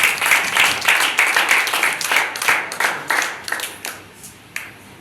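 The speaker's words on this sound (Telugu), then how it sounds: "అందరూ గట్టిగా చప్పట్లు కొట్టుకోవాలి." A church congregation claps loudly together after a blessing, a fast run of sharp hand claps that stays strong for several seconds, then thins to scattered claps near the end.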